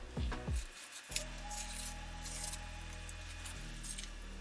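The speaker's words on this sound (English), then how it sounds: "we're going to want to remove the membrane." Pork back ribs have their membrane peeled away by hand, a short close scraping and tearing at the start followed by faint rubbing over a low steady hum.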